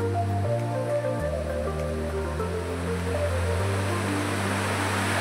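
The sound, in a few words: mountain waterfall stream flowing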